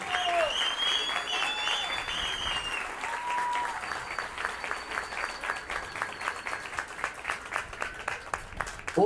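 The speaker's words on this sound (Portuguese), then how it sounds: "No que eu peço a salva de aplausos para eles agora." A crowd at a political party affiliation event breaks into loud applause with whistles and cheering, and the clapping thins toward the end.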